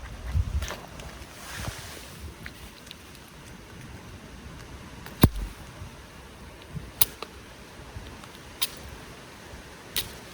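Wind gusts rush steadily across a rainy campsite, a soft continuous roar with a few sharp knocks and taps scattered through it.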